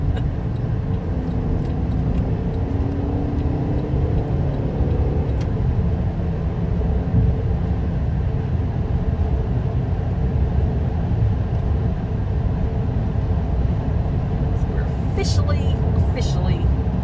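Steady road roar of a car cruising on an interstate between South Carolina and Tennessee, a constant low rumble filling the whole stretch while people talk inside the vehicle.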